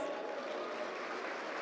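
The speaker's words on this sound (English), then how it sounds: "Please give a good round of applause." An audience at a university orientation programme applauds, a dense, even wash of clapping held steadily for a moment, moderately loud and without voices over it.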